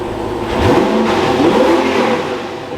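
An Audi R8 fitted with an Fi active exhaust revs hard up close, the engine note climbing and holding loud for a couple of seconds before easing back down.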